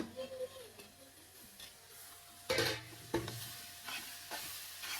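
Tiny kooni shrimp frying in a pan, stirred with sharp utensil scrapes and clatters over a quiet, steady sizzle, with a few distinct knocks partway through.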